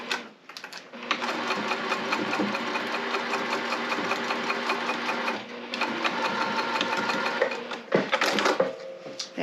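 A sewing machine stitches down a zipper tab on a tote bag in a steady close whirring run, pausing briefly midway before resuming, then ending with a few clicks.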